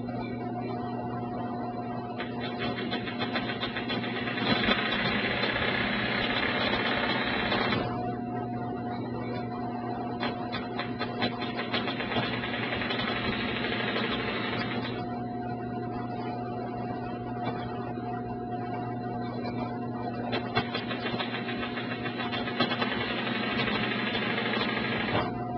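Domestic sewing machine running free-motion quilting stitches, a continuous steady mechanical whir with a constant hum, close and even in level throughout.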